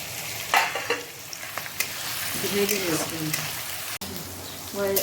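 Onions frying in a pan for chicken masala, a close, crackling sizzle with scattered pops and the scrape of stirring, while someone talks over it partway through.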